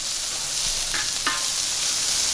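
A tablespoon of butter and a quarter of a chopped onion sizzle on a Skottle steel disc over a single propane burner, a steady close fry with a couple of brief stirring scrapes.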